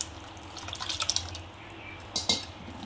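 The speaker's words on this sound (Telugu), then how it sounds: "ఇప్పుడు మనము పులుసు పోసుకోవాలి." Tamarind extract for Andhra-style pachi pulusu pours into a pan of onion and ginger-garlic paste, a quiet, close splashing trickle with a few distinct drips and a brief stronger gush near the end.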